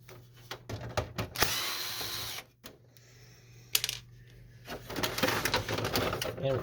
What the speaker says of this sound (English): just remove the other screws here that hold this cover here